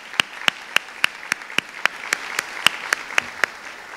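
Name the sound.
audience applause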